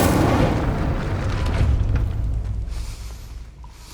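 A fiery Incendio spell blast from the video game Hogwarts Legacy, a loud booming burst with a rumbling, crackling tail that fades over a few seconds.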